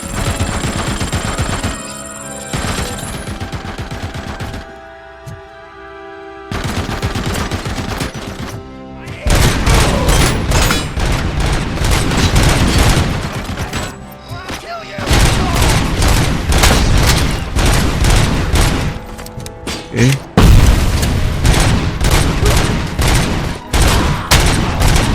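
Rapid SMG bursts in RoboCop: Rogue City, loud dense chattering volleys in repeated spurts with thumps and booms between, alone without talk.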